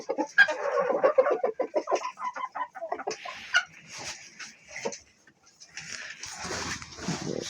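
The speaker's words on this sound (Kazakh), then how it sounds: "Ломон Браун деген несушка тауықтардан шыққан" Lohmann Brown laying hens cluck in a coop, a run of close, busy clucks and squawks followed by quieter intermittent calls.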